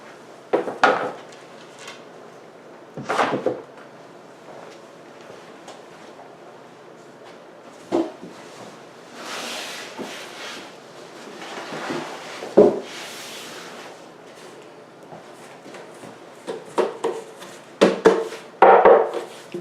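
Wooden parts of a weathered grey Coaster Furniture desk drawer and cabinet being handled, with scattered knocks, taps and scrapes of panels, some sounding hollow, close by with quiet gaps between.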